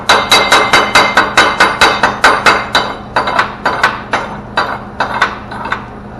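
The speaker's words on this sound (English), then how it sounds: "then I take my little chipping hammer here" A small chipping hammer chips slag off a 6011 stick weld in a quick, steady series of sharp, ringing strikes, close and loud, with no voices.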